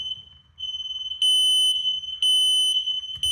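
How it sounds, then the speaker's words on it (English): A mains-powered Clipsal smoke alarm sounds close by, a piercing high-pitched electronic tone that swells and repeats in loud pulsing bursts with no talking. "it's going to alarm again and now you can't turn it off"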